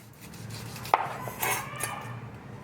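A knife cuts food on a board in a kitchen, giving one sharp chop followed by a few lighter scraping cuts, close and fairly quiet, with no talk.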